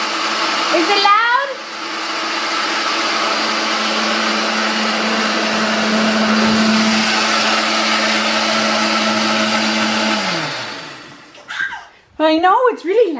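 A kitchen blender whirs loudly and steadily for about nine seconds while making a milkshake, then cuts out, with a child's excited squeals and chatter before and after.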